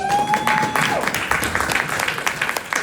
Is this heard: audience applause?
yes